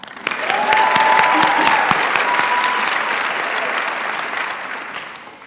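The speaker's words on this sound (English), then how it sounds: "a round of applause for us." A large crowd at a university integrative biology commencement ceremony breaks into a sustained round of applause with a few cheers, loud at first and gradually easing off.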